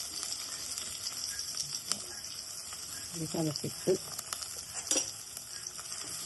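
Crushed ginger and garlic fry in coconut oil in a clay pot with a steady, close sizzle, while a voice speaks over it and a few clinks and stirring knocks sound.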